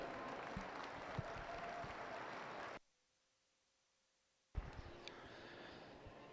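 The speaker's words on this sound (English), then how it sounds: "Let's give them a nice hand." An audience at a Catch-A-Calf show claps steadily, a dense wash of applause that cuts to near silence with a faint tone for almost two seconds, then the clapping resumes just as full.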